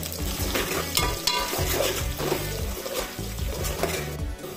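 Green chillies and cumin frying in hot oil for tomato curry, with onions about to go in: a steady, loud sizzle over the whole stretch, broken by repeated scraping and clattering stirs of a spoon against the pan.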